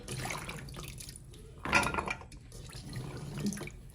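Tap water runs and splashes into a sink during washing, a steady close-up stream with a brief louder gush partway through.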